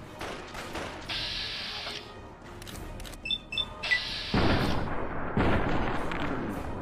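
Auto pistol fire in the game Fallout: Tale of Two Wastelands, loud sharp game gunshot bursts with short electronic effect tones between them and no talk over them.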